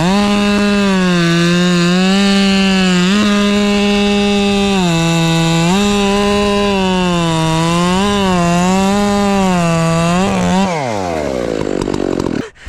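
Chainsaw with cutter teeth removed from its chain, running loud and close as it cuts wood, its steady engine drone dipping and rising under load for about ten seconds before revving down near the end.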